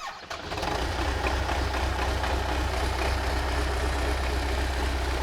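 The only working tractor in the ruined village of Dovhenke in Kharkiv region roars to life after a brief rough start, then settles into a loud, steady, throbbing engine drone close by.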